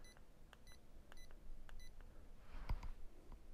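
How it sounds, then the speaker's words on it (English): A SaeboStim One wireless wearable electrical stimulator gives a short electronic beep when its button is held, a single faint tone over quiet room noise with a few earlier soft ticks. "press and hold the Saebo button for 3 seconds until you hear a beep"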